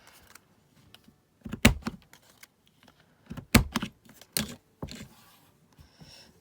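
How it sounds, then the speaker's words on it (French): Several sharp punching clicks from a small corner rounder punch cutting paper, spaced unevenly with short pauses, close and crisp in a quiet room. "Je prends ma perfo pour arrondir les angles."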